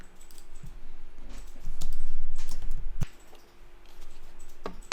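Keystrokes tapped on a computer keyboard while a night-lighting photo search is typed, a run of close clicks of varying strength over a low room hum, with no talk.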